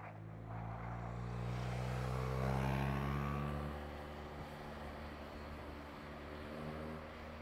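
A Weped Fold Fastride 10000W electric scooter accelerates with a smooth whine that swells, then eases and steadies, heard close against faint background rumble with no talk.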